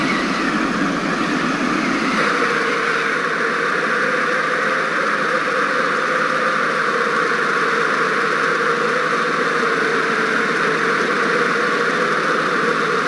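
A light aircraft engine in Flight Simulator X drones steadily at reduced throttle, its pitch dropping slightly early on and then holding a constant hum. No talk is heard.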